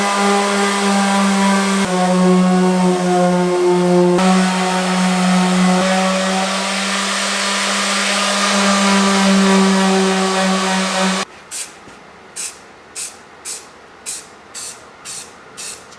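A paint spray gun hisses loudly and continuously while spraying paint on a Chevy, with a droning compressor-like tone underneath, then stops and gives way to a series of short regular bursts or clicks.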